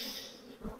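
Honeybees swarm over a hive frame during inspection, a faint, steady insect buzz held for under a second, close and alone.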